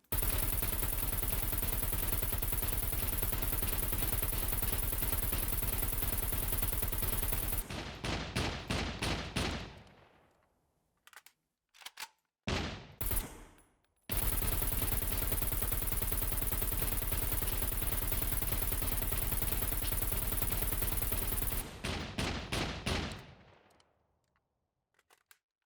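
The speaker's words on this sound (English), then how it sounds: "he's shooting the building right now" Heavy sustained automatic gunfire in the game SCUM rakes a building, loud continuous bursts with brief pauses, then scattered single shots before a second long burst trails off into quiet.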